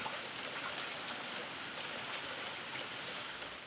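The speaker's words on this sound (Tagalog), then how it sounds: "Nahabutan tayo ng ulan," Steady rain falling outdoors during a home CCTV camera installation, a continuous even hiss of drops on surfaces with no breaks, fairly close and alone without voices.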